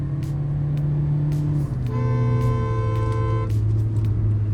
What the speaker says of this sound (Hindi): फिर तो भाई बस इंजन की आवाज़ सुनो